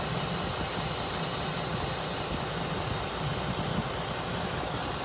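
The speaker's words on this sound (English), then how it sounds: "we're dumping the air in the suspension" Air hissing steadily out of a semi truck's suspension as it is dumped, a loud, continuous broadband rush with a low rumble underneath and no pauses.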